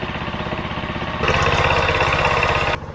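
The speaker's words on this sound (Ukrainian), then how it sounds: "додаю обертів двигуна" A walk-behind tractor engine running a generator chugs steadily with a rhythmic mechanical thrum, then revs up louder and higher partway through before dropping back abruptly at the end.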